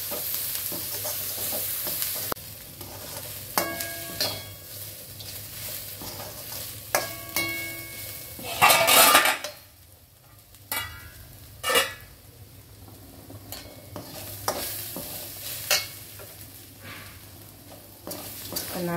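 Ingredients for shark puttu sauté in a hot pan with a steady soft sizzle, broken by repeated scraping stirs and clanks of a spoon against the metal, plus one louder burst of frying midway.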